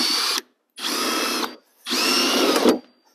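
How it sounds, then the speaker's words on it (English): Three loud, close bursts of a power drill whining as it drills out an aluminum rivet at the rear hinge of a Yakima Carbonite roof rack, separated by brief silences. "See how good I am in left-handed drilling here."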